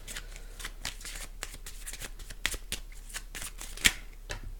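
Tarot cards being shuffled for a reading, a steady run of soft riffling flicks and slaps up close, with one sharper snap near the end and no talk.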